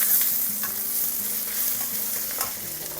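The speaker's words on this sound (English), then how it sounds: "Once the onions are soft, add a teaspoon of fennel seeds and a tablespoon of cumin." Onions with fennel and cumin seeds sizzle in a pan while being stirred, a close steady frying hiss broken by scraping stir sounds, with no talking.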